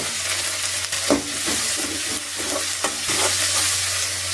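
Curry leaves and vegetables sauté in hot oil for a Chettinad vegetarian kuzhambu, giving a steady close sizzle with a few louder crackles and stirring scrapes, no voices.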